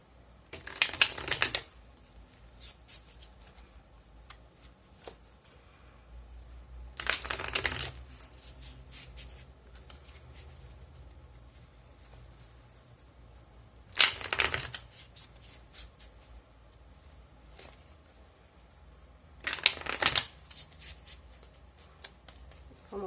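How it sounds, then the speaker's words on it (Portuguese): Osho tarot cards shuffled in four short riffling bursts several seconds apart, with quiet handling and soft rustles between them, close and fairly faint. "vamos tirar logo os cartinhos do Osho"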